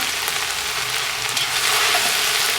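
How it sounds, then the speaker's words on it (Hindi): Cumin and nigella seeds sizzle in hot oil with okra and onion, a steady, close, bright crackling fry with no voices. "जैसे ही वो लेस छोड़ना शुरू करती है भिंडियाँ, हमने इसमें स्ट्रेट अवे कलवंजी और ज़ीरा दोनों डाल देना"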